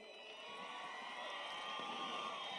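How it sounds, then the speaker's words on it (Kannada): Crowd at the Hampi Utsav festival cheering and shouting together, a steady, dense roar with scattered whoops and no clear clapping, heard from within the audience. "ಇವರಿಬ್ಬರಿಗೂ ಸಿಕ್ಕಾಪಟ್ಟೆ ಜೋರಾಗಿ ಬರಲಿ ಚಪ್ಪಾಳೆ."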